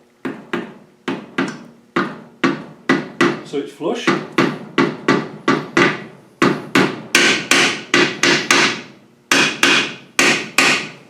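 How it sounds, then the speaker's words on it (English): Repeated sharp hammer taps on a metal gearbox part during gearbox reassembly, about two per second in bursts with short pauses, loud and close, with a brief spoken remark partway through. "we're just going to tap it with the hammer."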